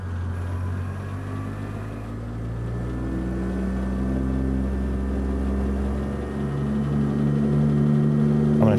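A heavy truck engine labors in low gear in American Truck Simulator, set in Alaska, a steady low droning rumble with a faint whine above it, held at near-constant loudness without talk.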